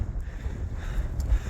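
Wind gusting across a Colorado 14er summit on Little Bear Peak, a low continuous rumbling buffet against the microphone, steady and moderately loud with no voices.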